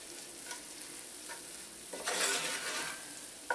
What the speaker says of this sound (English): you want to cook it for 30 seconds or so because we want to cook out the raw flour taste